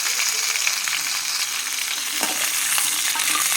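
Eggplant and chopped ingredients sauté in hot oil for a South Indian oil-eggplant kuzhambu, giving a steady, close sizzle with occasional stirring scrapes and no talking.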